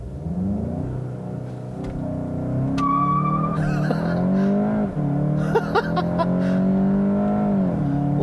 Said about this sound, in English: let's see what this car is like to accelerate